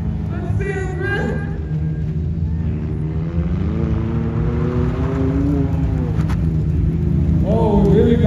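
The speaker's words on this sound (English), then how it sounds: "Wonderful to see this tango orange car come in." A tango-orange racing car pulls in at the Brands Hatch circuit, its engine note rising and shifting as it approaches, while a crowd and an announcer talk and cheer over it.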